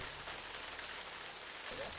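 Steady, close rain patters on surfaces outdoors at a lakeside wedding in New Hampshire, forming a continuous soft hiss throughout with no breaks.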